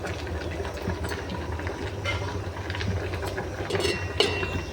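A mixer grinder grinds onion, coconut and tomato with a loud, steady motor whir and rattle that runs unbroken throughout, with no talking.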